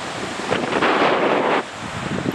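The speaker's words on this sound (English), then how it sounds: "The waves are a bit small today" Ocean surf rushes in a brief, steady wash at a Galicia surf spot with small waves, heavily mixed with wind buffeting the microphone and swelling for about a second.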